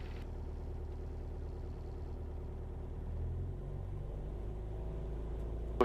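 Light aircraft engine running up toward 2,000 rpm during pre-flight checks, a steady low droning rumble that rises slightly in intensity partway through, heard alone without talk.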